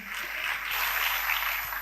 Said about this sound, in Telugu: చప్పట్లు కొట్టొచ్చుగా గట్టిగా